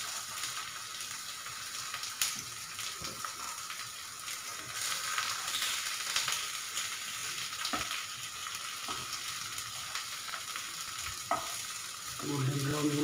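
Bottle gourd (lauki) pieces fry on a low flame, a continuous sizzle with scraping stirs and spatula knocks scattered across it, a busier clatter arriving toward the end.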